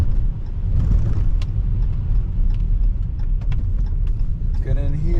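A 2019 Jeep Cherokee Limited driving on snow, its steady close engine and road rumble running throughout with faint clicks and rattles, ending in a brief rising tone as it stops.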